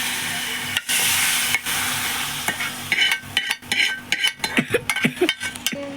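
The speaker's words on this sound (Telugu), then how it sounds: "స్టవ్ ఆఫ్ చేసుకొని దాన్ని మిక్స్ చేస్తూ ఉండాలి" A spoon stirs fried tempering into buttermilk for Telangana-style majjiga charu, a soft continuous sizzle with light scraping and a run of quick clinking taps against the pot near the end.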